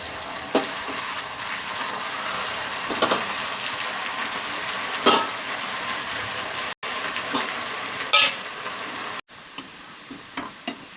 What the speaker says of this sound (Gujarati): એક પછી એક બધા મેંદુવડા એ રીતના તળી નાખશું